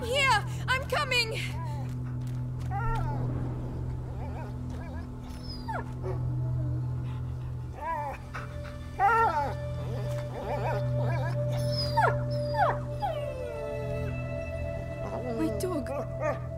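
The dog Leon from A Plague Tale: Innocence gives scattered yips, short barks and whimpers over a low steady hum, with people talking at times.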